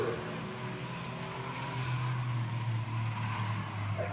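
A race car at Midvale Speedway drones from a distance, its engine tone holding steady and then rising, faint against the track ambience with no voices.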